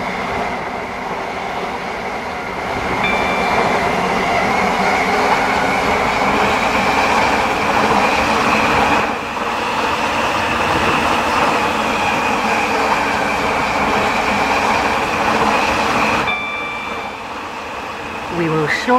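Stepford Connect passenger train on the Stepford County Railway heard from inside the carriage, a steady loud rolling rumble with a sustained whine, easing briefly midway and near the end.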